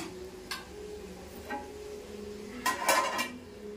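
A metal lid set back onto a pot of mutton curry gives a few light clinks, then a brighter clatter of metal on metal near the end, close by with no talk.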